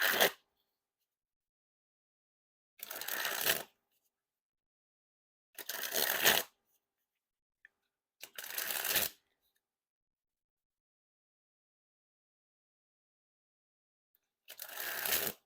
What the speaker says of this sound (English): time to test the handling. And first we start with the springs.